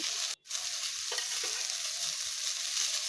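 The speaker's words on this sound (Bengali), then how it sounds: "এবার নুন হলুদ দিয়ে দিলাম দিয়ে এবার একটু ভালো করে ভেজে নেব" Onion and tomato fry in a pan with salt and turmeric, a dense, close, continuous sizzle broken by one brief silence and a couple of soft stirring scrapes.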